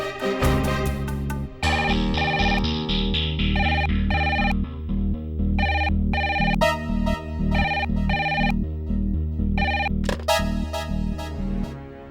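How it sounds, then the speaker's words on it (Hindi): A phone ringtone plays while someone places a call, a steady electronic melody with repeating rhythmic beeps and a low pulsing beat, loud and continuous. "आप उसे फोन लगाइए"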